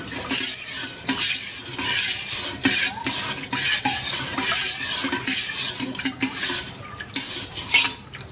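A spoon stirs sugar and salt into raw mango juice in a vessel, making continuous rhythmic scraping and clinking against the container close up, with no talking.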